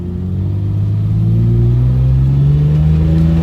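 A car's engine revs hard during a drifting session, a loud, close, continuous low rumble that climbs steadily in pitch as it accelerates.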